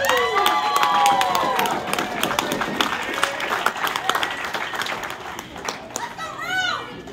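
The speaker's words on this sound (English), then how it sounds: "Give them a round of applause." A lively crowd at an indie women's wrestling match, Rose versus Jade, claps and cheers loudly, with whistles and high shouts rising through it before the noise thins out.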